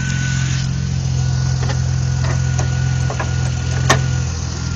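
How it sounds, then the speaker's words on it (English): A Pontiac G6 with a manual gearbox runs steadily with a deep, even exhaust drone, loud and close, with a few faint clicks over the constant hum. "Yeah, that is a nice sounding exhaust."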